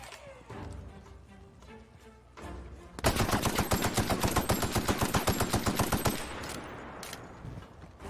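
Automatic gunfire in the video game The Outer Worlds: a loud, rapid, sustained burst of shots lasting about three seconds, preceded and followed by quieter in-game sounds.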